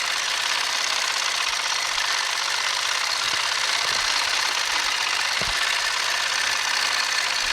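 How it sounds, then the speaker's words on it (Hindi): Sewing machine running a straight seam on a Patiala suit, a continuous fast mechanical whirr with steady needle chatter, close and even, with a few soft thumps partway through. "तो फ्रेंड इस तरह से मैं सीधा सिलाई करते जाऊंगी, जैसे मार्क लगाई हूँ उसी पे सीधा सिलाई।"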